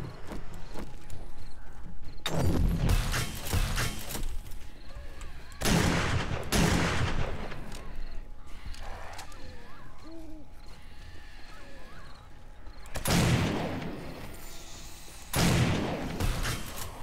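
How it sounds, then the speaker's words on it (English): An automatic turret in the survival video game 7 Days to Die fires loud, sharp bursts at irregular intervals, each crack standing out against a dense, rumbling layer of game ambience in between. "Well, turret's not out of ammo. It's still going."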